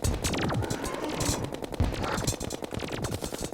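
The Mega Shark machine gun in Terraria fires in a rapid, steady stream of sharp shots that runs without a break for several seconds, loud and close, with game ambience mixed in.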